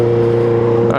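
An Audi R8 sports car drives close by in one loud, steady engine roar lasting about a second, with a strong low drone that fades slightly at the end.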